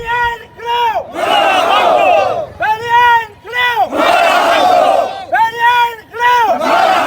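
Retired soldiers working as Bahria Town security guards chant protest slogans in unison, loud rhythmic call-and-response bursts of many voices with short pauses between, close and forceful.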